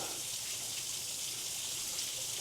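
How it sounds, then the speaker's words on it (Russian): Small waterfall tumbling through the rocky bed of the Grdjevica river near Budva, Montenegro: a steady, dense hiss of falling water that runs unbroken, fairly loud and close, with no voices over it. "А там очередной водопадик"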